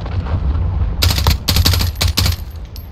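Bursts of M4 rifle fire in Call of Duty Modern Warfare hardcore team deathmatch, several rapid automatic strings of loud, sharp shots separated by brief pauses over a low game rumble.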